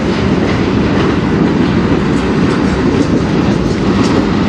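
A CN manifest freight train led by locomotives 3091 and 3280 rolls past in Sarnia, Ontario, a loud continuous roar of wheels and freight cars with faint rhythmic clatter, close and steady throughout.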